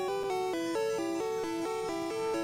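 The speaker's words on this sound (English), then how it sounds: "That is the sound of my 8-shop copy of Pokemon Crystal over there." Pokémon Crystal chiptune music from a Game Boy game cartridge, a steady sequence of bright square-wave notes stepping up and down in an even rhythm, heard alone and moderately loud.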